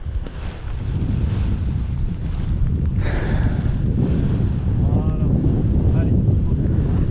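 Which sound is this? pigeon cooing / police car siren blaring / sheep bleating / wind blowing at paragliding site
wind blowing at paragliding site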